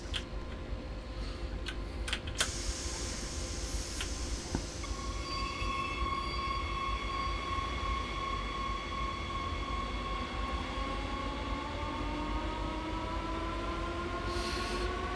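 Rapid transit train running in Train Sim World, a steady rumble of wheels on track with rising and falling whine tones, continuous and moderately loud throughout, no talk.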